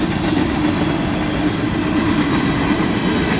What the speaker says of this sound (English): we got a long freight train here